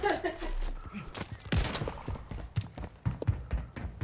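Distant gunfire in a video game, with scattered cracking shots and bursts spread through the clip, mixed with other game noise and some voices.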